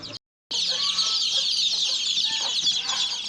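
Hens and chicks cluck and cheep inside a village coop, a busy overlapping chorus close by that starts after a brief silence and carries on steadily.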